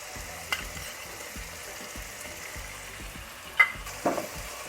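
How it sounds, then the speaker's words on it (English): Thinly sliced, salted onions frying in a pan for prawn biryani, a steady low sizzle with a few brief clinks and stirring scrapes near the end. "Let the onion cook for a while"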